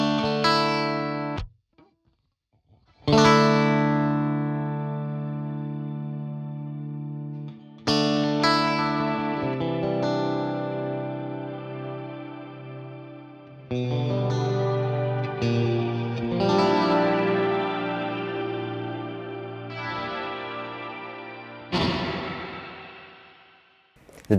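An electric guitar plays through a Seraphim Shimmer v2 shimmer reverb pedal, giving sustained chords with bright, octave-shimmering tails that swell and ring out between strums across a long passage, with one brief silence early on.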